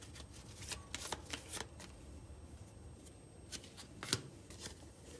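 Tarot cards are shuffled and pulled in a quiet room, giving soft papery riffles and flicks in irregular bursts, with a few sharper slaps of cards being laid down, close and faint.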